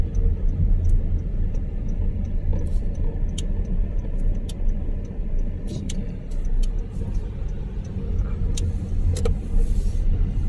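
A car drives along a residential subdivision road in Pampanga heading back to the main road, its steady engine rumble and tyre noise loud and continuous from inside, with occasional faint ticks.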